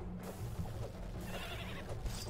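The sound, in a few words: pigs in the video game Starbound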